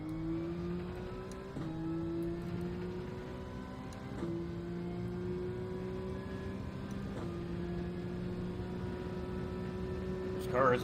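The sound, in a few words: high-RPM Porsche engine revving in GTRC racing video game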